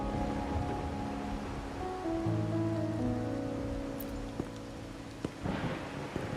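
Rain falls in the Raguna city streets of Wuthering Waves, making a continuous hiss with scattered drip and tap sounds and an occasional deeper rumble, under sustained melodic background music.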